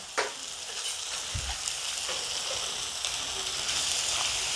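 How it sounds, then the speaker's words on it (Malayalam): Native curry leaves hit hot oil with a sharp pop and then a bright, steady sizzle and crackle, with an occasional stirring scrape under the continuous hiss. "കുറച്ച് കറിവേപ്പില ഇടണം നാടൻ കറിവേപ്പില തന്നെ ഉപയോഗിക്കാൻ ശ്രമിക്കണേ"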